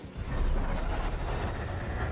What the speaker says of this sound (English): And barely gets away from that pallet explosion there